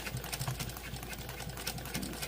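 Singer 291u1 industrial sewing machine with a roller presser foot back stitching, a steady, close, rapid mechanical chatter throughout a short stretch without speech.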